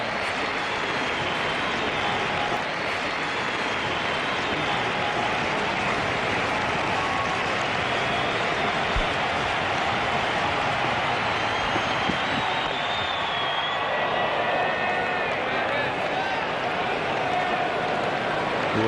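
Steady crowd noise at a Johannesburg cricket test between South Africa and England, with broad applause and cheering washing through the whole stretch as a dense, continuous roar that swells slightly toward the end.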